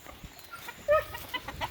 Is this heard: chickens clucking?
yes